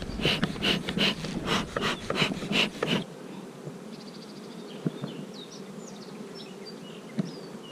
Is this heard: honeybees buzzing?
yes